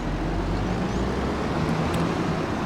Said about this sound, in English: Get in this tractor.